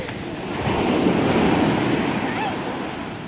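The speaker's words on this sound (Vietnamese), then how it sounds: "Nghe tiếng sóng vỗ hết." Sea waves break on a beach close by, one surge swelling and washing up before easing off, with wind buffeting the microphone.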